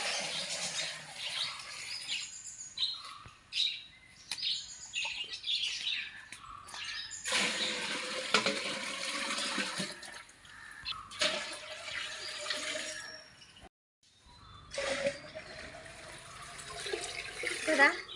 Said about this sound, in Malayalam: നമുക്കിതിൽ നിറച്ച് വെള്ളം ഒഴിച്ചു കൊടുക്കാം കേട്ടോ